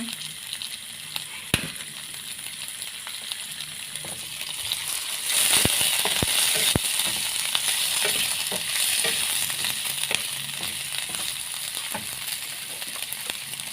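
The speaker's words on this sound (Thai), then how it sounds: "ใส่ลงไปผัก ผัดกับกระเทียม" Vegetables and garlic sizzle in a hot pan, a steady frying hiss broken by scrapes and clacks of a spatula stirring, close and moderately loud.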